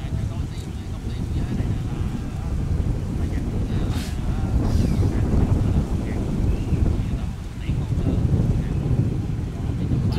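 A high-speed catamaran ferry, 9.6 metres wide and 32 metres long, heads out toward Phu Quoc with a deep, continuous engine and water rumble, overlaid by heavy wind buffeting against the microphone.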